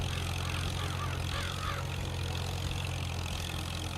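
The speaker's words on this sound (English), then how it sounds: "Fairly loud engine." An old Allis tractor engine in Farming Simulator 22 runs at a steady low rumble with a constant mechanical drone, heard at a moderate distance with no talk.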